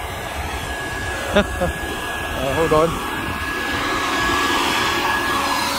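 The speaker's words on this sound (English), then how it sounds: "I found a guy hoovering." A vacuum cleaner is run by a worker on a beach boardwalk at Praia da Rocha in the Algarve, Portugal, its steady whine droning through the whole stretch beneath outdoor ambience, with someone briefly speaking.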